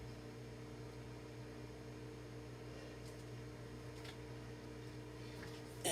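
A steady low hum of a running microwave oven softening an ingredient, with a constant droning tone, faint ticks now and then, ending in a brief click.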